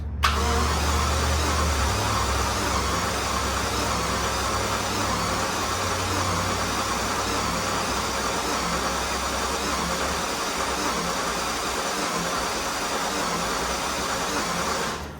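The starter of a Jaguar XJS churns for about fifteen seconds after the key is turned without the engine catching, a steady loud mechanical whir with a low hum at the start and no voices.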